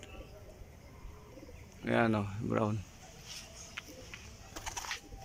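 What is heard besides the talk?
racing pigeons cooing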